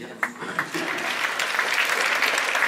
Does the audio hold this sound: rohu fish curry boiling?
no